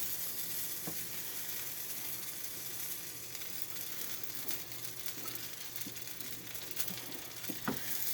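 Ingredients for a cheesy enchilada soup are stirred in a pot, giving a steady low sizzle with soft scraping and a few light clinks of the spoon, alone and without talk.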